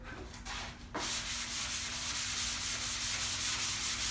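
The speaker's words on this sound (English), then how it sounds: "a light sanding with our sanding block here." Rhythmic back-and-forth rasping of a sanding block lightly sanding a wooden hobby table part, close up and steady after a brief hesitant start.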